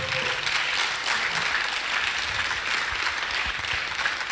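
An audience at a university technology week event applauds a speaker being welcomed, a dense, steady wash of clapping from many hands that holds evenly throughout.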